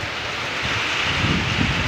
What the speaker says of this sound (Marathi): असं वारा पाऊस चालू आहे